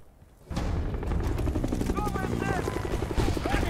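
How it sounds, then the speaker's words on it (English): Helicopters in the Battlefield: Bad Company 2 campaign thunder in with loud, continuous rotor chop, joined by gunfire and booms in a dense combat mix. "Alright, more helicopters."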